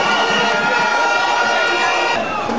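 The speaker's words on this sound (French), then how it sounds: "Applaudissez-vous vous-même." Large crowd at a political rally in Yopougon, Côte d'Ivoire, cheers and applauds, producing a loud continuous roar of voices and clapping with no gaps.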